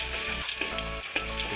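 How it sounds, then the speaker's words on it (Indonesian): Ground spice paste sautéing in a frying pan for noodles with milkfish in sweet soy sauce, a close, loud, continuous sizzle with bright crackling bursts and no talk. "kita tumis bumbunya."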